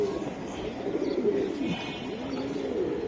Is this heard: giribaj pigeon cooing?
yes